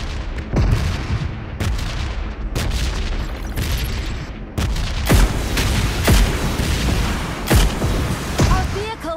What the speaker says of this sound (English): Firing sounds detected.